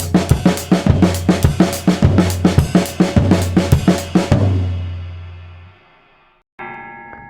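A drum kit plays a split doubles exercise in fast sixteenth notes, loud, close and evenly driving for about four seconds, then the last hit rings out and fades, followed by a brief cymbal or tom tail after a pause.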